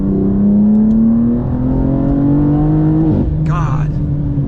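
An 800-horsepower G87 BMW M2 pulls hard under full throttle on a road drive, its loud engine tone climbing steadily through the rev range, then breaking briefly at a gear change before carrying on.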